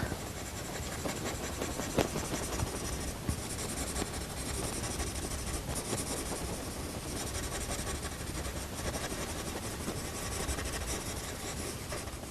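Coloured pencil scratching steadily across paper while drawing a seersucker shirt texture in small backwards S-shaped strokes, a continuous close, dry rubbing hiss with faint irregular strokes throughout.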